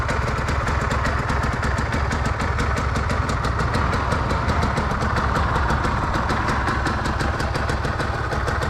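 A 2010 Aprilia RS 125 motorcycle idles with its exhaust valve open, a loud, rapid, steady two-stroke putter with evenly spaced pulses, close and continuous with no talk.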